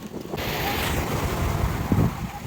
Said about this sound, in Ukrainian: І ось вам море, яке сьогодні дуже хвилюється.